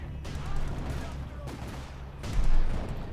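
Battle sounds from Company of Heroes 2 with a Panther tank, an anti-tank gun and snipers: dense rolling gunfire and blasts with two louder bursts, under a faint commentary voice.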